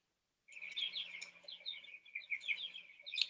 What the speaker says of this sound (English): Okay, here go my birds again.